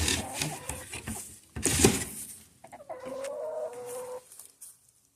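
Backyard chickens in a coop give a burst of clucking and cackling, with a loud flurry near the two-second mark and then a steady, nasal drawn-out call. Nobody speaks.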